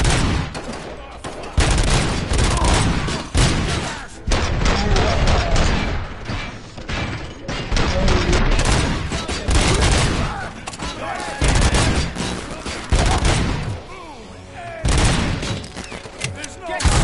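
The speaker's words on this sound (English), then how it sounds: "am I hearing gunshots?" Rapid bursts of gunfire and fusillades from a RoboCop film scene, loud and dense throughout with repeated volleys and short pauses, mixed with occasional shouted voices.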